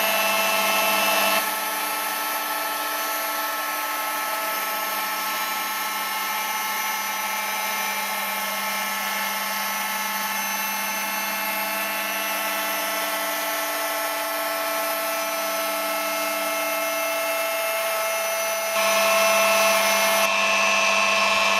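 A car paint polisher running at speed three, about 1500 rpm, gives a continuous high whine with steady tonal hum, loud and close, unchanging for about twenty seconds with no talk over it.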